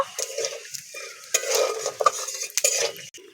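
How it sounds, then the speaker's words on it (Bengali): Dried red chillies, whole garam masala and cumin seeds sputter in hot mustard oil, a light close sizzle with a spoon scraping and clinking against the pan in short strokes. "ফোড়ন দিয়ে দেবো শুকনো লঙ্কা গোটা গরম মশলা আর গোটা জিরে ফোড়নটাকে হালকা করে ভেজে নেব"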